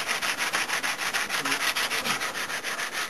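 Steady back-and-forth rubbing of a cork sanding block on the deck of a Type XVIIb submarine model, quick regular strokes, close and continuous with no talking.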